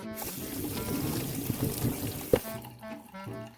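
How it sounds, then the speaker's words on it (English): Cold water pours steadily onto freshly cooked macaroni in a kitchen, a fairly quiet continuous splashing rush that stops abruptly after about two and a half seconds, leaving a few faint drips and clinks. "pour cold water onto it so it kind of stifles the cooking process"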